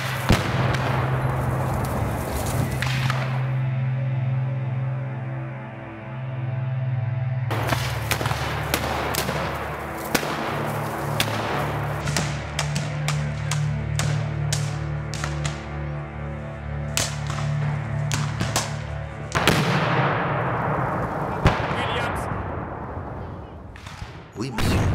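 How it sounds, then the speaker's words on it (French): Cannon and artillery fire rings out in a war-film battle, with repeated sharp, loud blasts and cracks arriving in irregular bursts over a dense, rumbling background. "Qui diable tire ce canon sur nous?"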